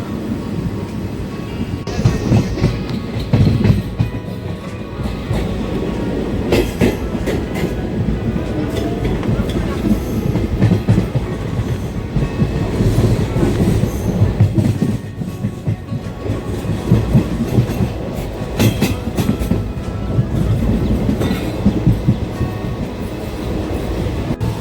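A passenger train runs between Durgapur and Srirampur near Panagarh in West Bengal, giving a steady loud rumble with rhythmic wheel clatter throughout, heard from inside the carriage with faint voices now and then.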